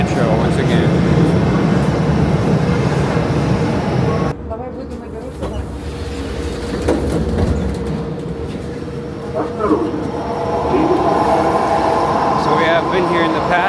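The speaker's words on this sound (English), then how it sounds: "this is the Kazan metro" In the Kazan metro, a train fills the station with loud, continuous rumbling and rolling noise. It dips briefly a few seconds in, then swells again, with a faint murmur of background voices.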